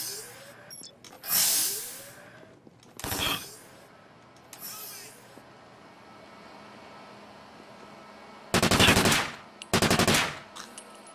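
Gunfire in the tactical shooter Takedown: Red Sabre, with several loud bursts of automatic fire spread across the clip. The strongest comes as two heavy back-to-back volleys near the end, over a low ambient hum.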